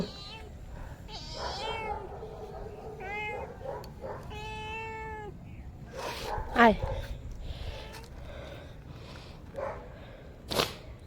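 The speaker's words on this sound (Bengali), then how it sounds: "এই যে এই বিড়ালটা ম্যাও ম্যাও করে যাচ্ছিল" A cat meows several times outdoors near feeding time, giving drawn-out rising and falling cries in the first few seconds, followed by scattered clatters and someone speaking nearby.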